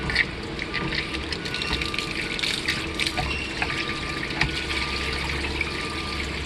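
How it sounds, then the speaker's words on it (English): Water gushes and splashes continuously from the sewage hose outlet of a 2020 Seneca 37K motorhome, a steady watery rush at moderate volume with no voices. "there's a little bit of water in here now, so when I open it, it will pour out"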